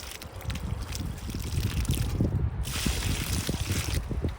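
Water poured from a big bucket onto the base of a newly planted tree, a continuous splashing gush with dribbling and trickling, steady and close for several seconds.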